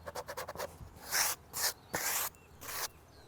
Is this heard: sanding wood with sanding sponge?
yes